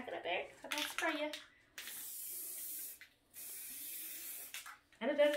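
Blue spray paint for an epoxy project hisses from a can in two long, steady bursts, with someone talking before and after the spraying.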